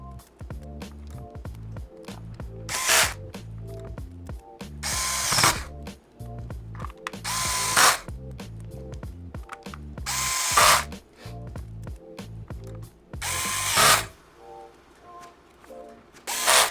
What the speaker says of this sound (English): close the unit and put the bottom cover screws back in